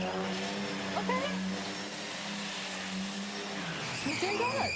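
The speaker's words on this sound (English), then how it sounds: "He's doing donuts." A loud car engine revs and drones continuously while tires squeal in long wavering screeches, with voices talking over it.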